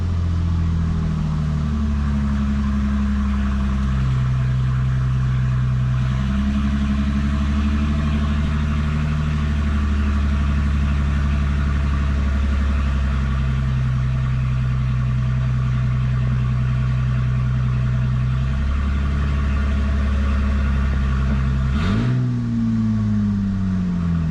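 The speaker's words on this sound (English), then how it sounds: "I gotta find out why it does that little bit of a weird idle where it revs up" A Mustang engine idles with a steady low rumble, its revs rising and dropping several times in an irregular idle, then one sharp dip near the end.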